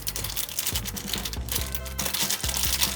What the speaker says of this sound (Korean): 투명한 비닐 패키지에 들어있는 이 제품부터 개봉해 보도록 하겠습니다